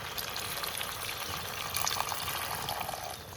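Hot water poured into a pan of fried chicken gravy for chicken tikka biryani, a steady close splashing pour that runs through the whole moment with no talking.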